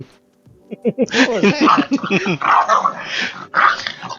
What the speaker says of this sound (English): Aggro Jack Russell Puppy is what that is.